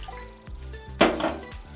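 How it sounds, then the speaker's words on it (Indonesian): Water is poured into a cooking pot for a Sundanese-style papaya vegetable dish, a short splashing gush starting midway after faint kitchen clinks, close and moderately loud. "Ini airnya kelihatan masih kurang ya, saya tambahkan lagi"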